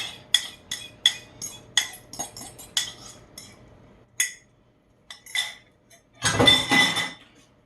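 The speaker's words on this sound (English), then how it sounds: "So just kind of break up the yolk, and that's it" A utensil clinks and taps against a bowl while breaking up an egg yolk, a series of sharp, close ticks in an irregular rhythm, then a short louder stretch of mixing and scraping.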